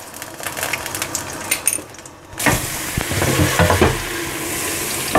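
Three garlic cloves hit hot olive oil with a sudden loud sizzle after a few light clinks, the frying hiss staying strong and crackly to the end.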